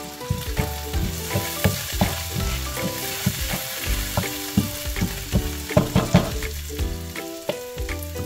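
Garlic, onion and tomato sauté in a pan, a steady close sizzle with frequent stirring clatters and scrapes running throughout without talk.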